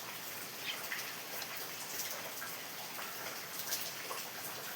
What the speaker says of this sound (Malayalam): ഈ മഴ ഇങ്ങനെ പെയ്തുകൊണ്ടിരിക്കുന്നതുകൊണ്ട് മുറ്റത്ത് പോയിട്ട് ഇടാൻ പറ്റില്ല